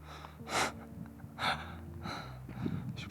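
Heavy breathing from a hiker climbing a steep mountain trail in the Écrins National Park, with two strong gasping breaths about a second apart, then softer panting, close to the microphone.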